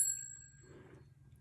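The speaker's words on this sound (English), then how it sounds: "I like to just ring the bell" A small bell rung during a St. Expedite ritual gives a single clear, bright strike at the start, then rings out and fades over about a second, faint and alone.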